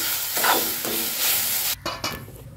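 A papad omelette fries in a pan over a low gas flame, giving a steady close sizzle that runs on and then briefly breaks up and softens near the end.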